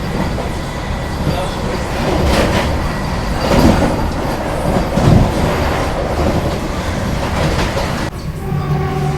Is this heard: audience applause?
no